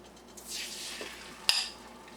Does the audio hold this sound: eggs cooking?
yes